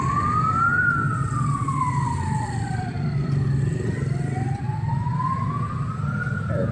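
A vehicle siren wails on a street in Cambodia, its tone sweeping slowly up and down in long glides over steady rumbling traffic noise, loud and continuous throughout.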